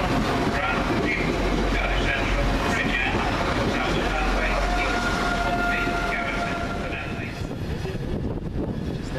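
Virgin train service from London Euston to Glasgow Central departing Crewe station, a steady loud rumble of the moving train with a faint whine, continuous throughout and easing slightly near the end.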